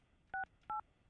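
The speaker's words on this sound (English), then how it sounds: "Let me get Christina on the phone." Two short telephone keypad dialing tones, each a brief dual-tone beep, sounding close and clean one after the other against near silence.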